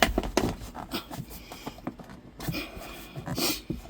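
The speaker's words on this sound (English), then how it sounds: "you hear me struggling. Breathing heavy." Heavy, uneven panting breaths come in short bursts, close and fairly quiet, with small knocks and shuffling between them, while a person works on a Ram truck's HVAC system.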